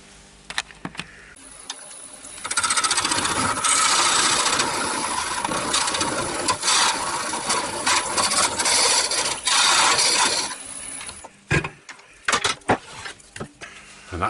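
A woodturning lathe hollows a cherry bowl, giving a steady, loud, broadband cutting rasp that runs continuously for several seconds. Shorter scrapes and knocks come before and after it, and nobody talks.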